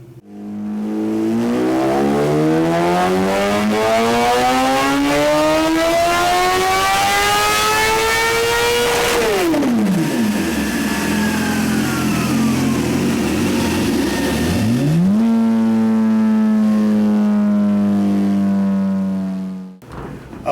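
A 2017 Suzuki GSX-R1000 motorcycle engine on stock ignition timing with 93 octane fuel revs loudly and rises in pitch, drops back, climbs again, then holds a steady high rev before cutting off; no talking.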